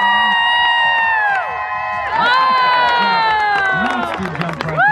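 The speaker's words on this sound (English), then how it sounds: "You guys gotta cheer loud though." A loud outdoor fair crowd cheers and whoops for a dog attempting a record high jump, with sustained siren-like tones and shouts rising and swelling over several seconds.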